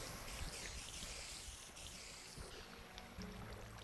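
Flowing water in the Minecraft video game, a steady broadband rush with soft splashy texture running continuously and fairly quietly, with no talk over it.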